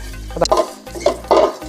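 Curry leaves and asafoetida frying in hot oil while sambar powder is made at home, giving bursts of crackling sizzle and stirring scrapes in a pan, close and fairly loud, with no talk.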